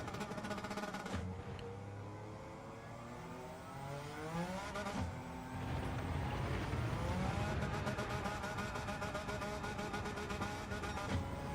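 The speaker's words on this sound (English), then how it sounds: "The turbo wastegate opening and closing over and over again." A race car in Gran Turismo 7 revs and shifts through gears, engine tones rising and falling, with a rapid buzzing flutter of the turbo wastegate chattering through the latter half; loud and continuous, no talking.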